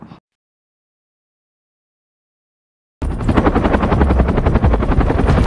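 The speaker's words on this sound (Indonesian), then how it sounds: "lalu dia pun dijemput oleh helikopter" A helicopter, heard in a story about a rescue flight, starts abruptly after a few seconds of silence with a loud, steady, close rotor chop and engine whine that continues without pause to the end.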